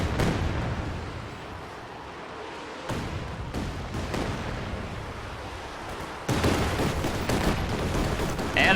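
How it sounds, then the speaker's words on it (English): Katyusha rocket artillery fires in a war video game, its salvos arriving as sudden loud bursts of rushing roar that hold steady for a while, with distant battle rumble in between. "Katyusha firing over here on the right side"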